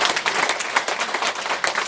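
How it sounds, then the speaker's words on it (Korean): An audience at a lecture on Korean reunification breaks into brief applause, a dense crackle of many hands clapping at once, fairly close and loud, with no one speaking over it. "맞는 것 같으면 박수 한번 쳐주세요."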